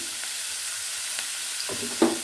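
Capsicum, carrots and beans stir-frying in a pan for fried rice, a soft steady sizzle with occasional spatula scrapes and a louder stir near the end, close and quiet, no talk.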